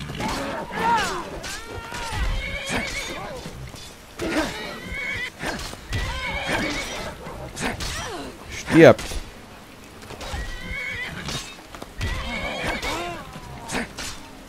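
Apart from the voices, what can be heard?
horse neighing in a video game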